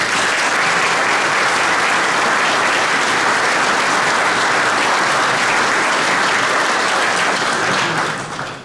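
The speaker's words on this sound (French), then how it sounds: "je vous demande de les applaudir" An audience at a French town's New Year's greetings ceremony applauds community workers with sustained, dense clapping that stays loud and even before tapering off at the very end.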